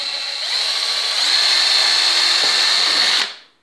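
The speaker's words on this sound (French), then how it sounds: "Et je perce." A power drill bores screw holes in wood, a loud close whirring whine that rises slightly in pitch as it bites, runs steadily for about three seconds, then cuts off and winds down, with no talking.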